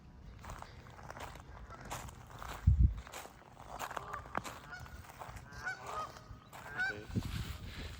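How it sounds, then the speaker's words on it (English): Geese honk at a lake during a morning walk, several nasal calls scattered across the clip, close by and fairly loud, with footsteps and outdoor ambience between them. "Here's some geese."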